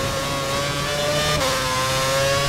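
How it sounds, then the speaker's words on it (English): A Formula 1 racing car engine in a video game revs hard and loud at full revs around Budapest, a sustained high-pitched whining roar with a slight pitch shift midway. "He's running full revs, maximum power."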